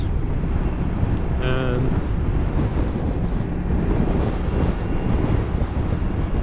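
Strong wind buffeting an outdoor microphone beside a Moto Guzzi V100 Mandello S motorcycle, a loud continuous low rumble throughout, with someone speaking briefly under it.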